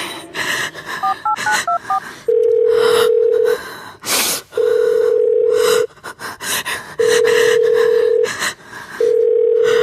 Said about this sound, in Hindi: मेरे बेटे को फोन मिलाइए।